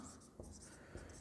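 Chalk or pen writing on a board or paper while working an elimination-method math problem, a soft scratchy stroke sound with a couple of brief taps, faint and close with no speech.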